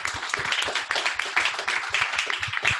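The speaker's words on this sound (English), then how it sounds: "And you're clapping for yourselves too." Audience applause at a public forum on transportation ideas, many hands clapping in a dense, steady patter that stays fairly loud without voices.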